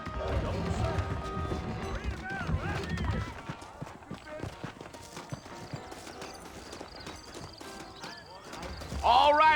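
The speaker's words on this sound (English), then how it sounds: "I got the horses saddled up and ready out front." Horses galloping with steady clip-clop hoofbeats in the western video game Red Dead Redemption, a continuous rhythmic pounding under spoken dialogue and music, ending in a louder burst.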